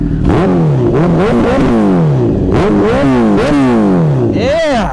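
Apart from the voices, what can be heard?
Honda CBR1000RR Fireblade revving with Hyperflow aftermarket exhaust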